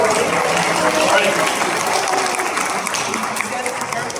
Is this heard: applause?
yes